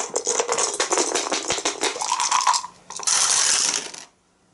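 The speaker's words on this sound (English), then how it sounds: "So he gonna roll 4 dice" Four dice tumble and rattle across a table during an Arkham Horror board game, making a dense, close clatter that runs for several seconds and then stops abruptly.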